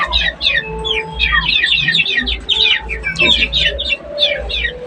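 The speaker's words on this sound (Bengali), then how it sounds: "আর এই যে মুরগিগুলো দেখো যে" Young chickens in a yard produce dense, rapid high chirping and peeping, continuous and close, with a low background hum.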